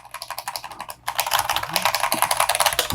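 Fingers type on a mechanical gaming keyboard in rapid, close, loud keystrokes. A brief pause near the start splits the typing, then a denser burst of continuous clacking follows.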